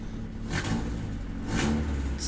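A car engine revs up twice in quick succession, rising and falling in pitch, close by with a steady idle rumble between, while being tested after repairs.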